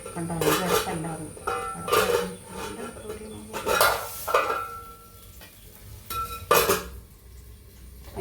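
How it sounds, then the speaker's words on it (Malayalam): Angamaly-style sardine pickle masala is stirred and sautéed in a pan: a spoon scrapes and clanks against the metal in repeated bursts over a low sizzle, with a voice now and then. "ശരിക്കും ഇതിൻ്റെ പച്ചമണം മാറുന്ന വരെ നമുക്കിത് വരട്ടിയെടുക്കണം"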